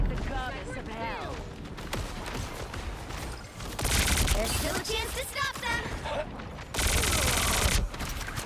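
Rapid gunfire in the video game Marvel Rivals, with Star-Lord's blasters firing in dense sustained bursts over a busy mix of game effects and explosions, loud and continuous during a semi-final match.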